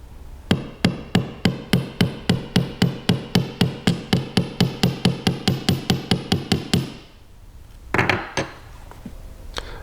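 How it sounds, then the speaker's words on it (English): A polished jewelry hammer strikes the ends of head pins flat on a steel bench block: about two dozen crisp, ringing metallic taps in a fast, even rhythm, a short pause, then a couple more blows, close and loud. "Hammer the end of each head pin flat on your bench block with a polished hammer."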